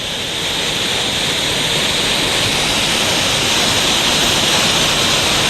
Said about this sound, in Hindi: सड़क के ऊपर से पानी झरने की तरह बह रहा है और देखिए बहाव भी कितना तेज है इसमें